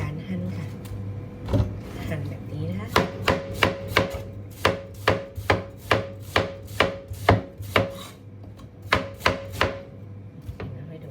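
Steady rhythmic chopping on a board, a long run of evenly spaced knife strikes, close and fairly loud, with a brief pause near the end and a murmuring voice underneath.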